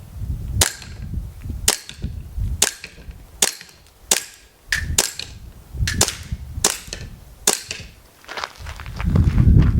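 Sharp shots from a WE Hi Capa 4.3 airsoft pistol fired at targets, about ten crisp cracks in an irregular rhythm with brief pauses between them, close and loud, with faint target impacts and rustling underneath.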